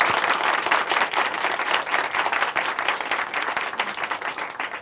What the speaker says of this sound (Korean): 함께 또 박수로 응원해 주시기 바랍니다.